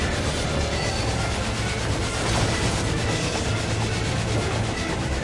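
Train in Final Fantasy XIV Endwalker battle: a steady, loud, continuous rumbling roar with rattling texture throughout, constant and unbroken.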